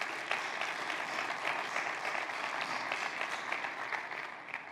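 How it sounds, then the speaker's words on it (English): Sustained applause from a church congregation for Pastor Lee at Springfield Baptist Church in Newton County, a steady dense wash of many hands clapping at moderate level for about five seconds, easing slightly toward the end. "Let's give Pastor Lee a round of applause."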